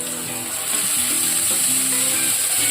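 Boiled jackfruit seeds and green peas fry in a little oil over medium flame, making a dense, steady hiss that stays loud and close throughout with soft stirring underneath, without speech.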